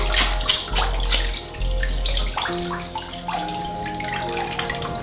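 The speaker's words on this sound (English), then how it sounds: "Let's rinse you off" Running water from a tap or shower rinses a Labrador puppy in a bath at home, a steady splashing flow that shifts as it is moved, with a low rumble underneath and no talking.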